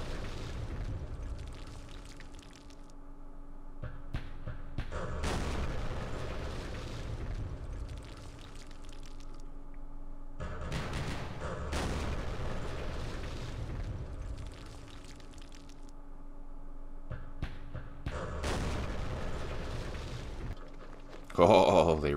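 M106 4.2 inch mortars firing in the Vietnam war game Campaign Series Vietnam, heavy booming blasts coming in repeated bursts with rumbling tails, loud and fairly close, with a voice talking under them.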